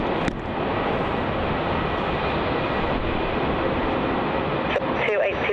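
A Qantas Boeing 737-800 jet departs on runway 34 at Melbourne Airport, bound for Brisbane, its engines a loud, steady broadband roar holding throughout with a brief knock near the start.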